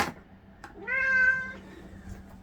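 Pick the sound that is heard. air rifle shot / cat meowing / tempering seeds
cat meowing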